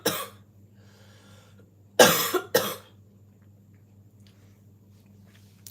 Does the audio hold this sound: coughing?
yes